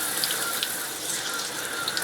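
Water streams steadily from the pump outlet of a 1975 Evinrude 40 hp outboard under repair, a continuous splashing hiss with no talk.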